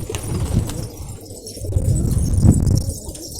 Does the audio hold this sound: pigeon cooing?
yes